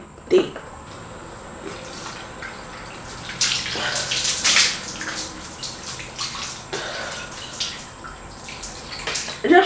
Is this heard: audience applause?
no